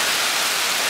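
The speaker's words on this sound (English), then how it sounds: "the rain is harder than I've ever seen it before in the Marshall Islands. It's really, really coming down hard." Heavy rain pours down at night in the Marshall Islands, a dense, loud and steady hiss with no breaks.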